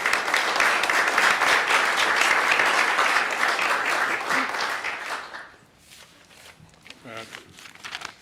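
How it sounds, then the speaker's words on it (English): An audience at a police chief swearing-in ceremony gives the family a dense round of applause that fades out after about five seconds, followed by a quieter room with faint voices and shuffling. "Let's give them a round of applause if we can."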